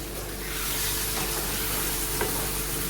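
Okra and potatoes fried with masala in a pan, a steady loud sizzle with occasional scrapes and clinks from stirring.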